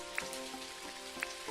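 Rain patters steadily on the ground in the outback life game Dinkum, a soft, even hiss with a few brighter tones of game music or effects standing out above it.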